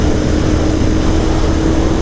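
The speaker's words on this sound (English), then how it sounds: "Revving it out." A motorcycle engine, either a Harley or a Royal Enfield, is held at high revs in a steady, loud, unbroken drone that stays close throughout.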